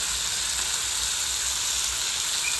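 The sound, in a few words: chicken and spices frying and being stirred in a pan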